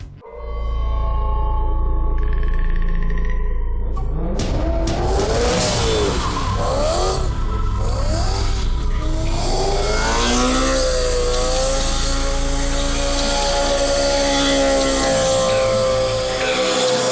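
A high-powered performance car engine revs hard several times in quick rising and falling sweeps, loud and close, then settles into a sustained high-pitched roar, with no voices.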